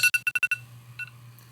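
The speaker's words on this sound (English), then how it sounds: "That's the alarm to wake up my dad for baseball practice." A bedroom wake-up alarm rings in six quick, bright electronic bursts, then gives way to a softer low hum with a couple of faint beeps trailing after, loud and alone with no voices.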